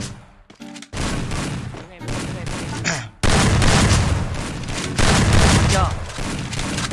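Rapid bursts of gunfire from a shooting video game, loud and close, coming in clustered volleys with brief gaps between them, while voices talk over the action.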